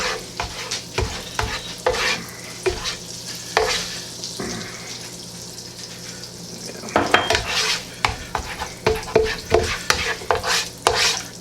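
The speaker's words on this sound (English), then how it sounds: "as it melts, we're gonna put in the olive oil and let it all mix in there." Butter melting with olive oil in a pan for garlic green beans, giving a steady low sizzle broken by repeated scraping and stirring clinks of a utensil against the pan, close and fairly loud, with no talking.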